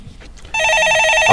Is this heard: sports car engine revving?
no